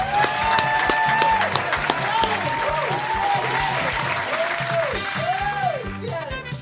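A crowd applauds steadily, clapping mixed with a few cheers, while a voice talks faintly underneath and the clapping fades near the end.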